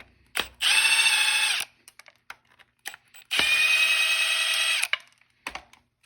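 A ratchet zips loudly twice in long whirring bursts while removing a sensor on a Subaru BRZ/WRX, with softer clicks and handling noises in the gaps between bursts.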